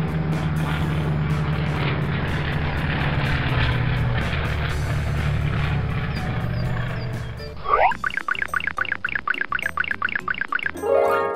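A buzzing propeller-like drone hums steadily, then gives way to a quick run of rising, warbling whooshes and rhythmic pulses, like a playful flying effect.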